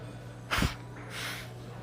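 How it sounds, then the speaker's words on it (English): A single short, forceful nose blow bursts out mid-clip, loud and close, followed by a fainter breathy exhale against a quiet background hum. "I'm gonna blow my nose."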